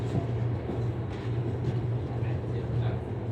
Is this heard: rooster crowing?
no